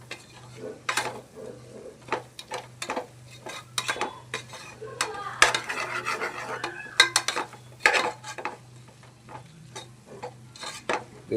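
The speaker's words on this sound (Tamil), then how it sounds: "நல்லா கிண்டிக்கிட்டே இருக்கணும்" Food stirred continuously in a pan to keep it from sticking, with repeated close metal scrapes and clanks of a spoon against the pot over a faint low hum.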